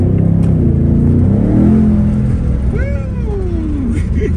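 A Ford Mustang GT with a 5.0 V8 roars loudly and steadily on a road in Sandton, South Africa, revving hard through a pull with rising and falling engine pitch, close and continuous throughout.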